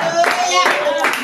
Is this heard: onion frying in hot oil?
no